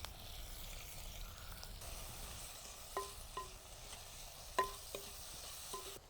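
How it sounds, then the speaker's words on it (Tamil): Tomatoes and green chili sauté in oil in a pan at an outdoor wild-kitchen cooking setup, giving a soft, steady sizzle with a few sharp clinks of a spoon stirring against the pan. "தக்காளி போட்டுட்டோம்னா தக்காளி வதங்க ஆரம்பிச்சிடும்."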